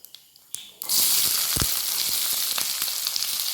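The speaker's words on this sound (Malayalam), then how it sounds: "എണ്ണ ചൂടായിട്ടുണ്ട്. നമുക്ക് കുറച്ച് വലിയ ജീരകം, പെരുംജീരകം അത് അങ്ങോട്ട് കൊടുക്കാം. അതെല്ലാം പൊട്ടുമ്പോഴത്തേക്ക്" Whole cumin and fennel seeds hit hot oil and burst into loud, steady spluttering and sizzling after a few quiet clinks, with sharp pops scattered through the crackle.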